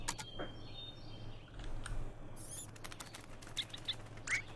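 A bird flutters its wings and gives a few short, high chirps and tweets, close but fairly quiet, in a brief burst over a low background hum.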